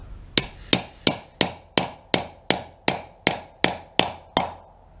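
Steady hammer taps on a 16 mm socket driving needle bearings into the IRS of a Polaris Outlaw 500 quad: eleven sharp metallic strikes at an even rhythm, close and loud, with no talking.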